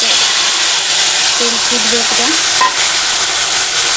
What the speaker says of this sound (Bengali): কড়াইতে তেল দিয়ে তেলের মধ্যে হলুদ দিয়ে দিয়েছি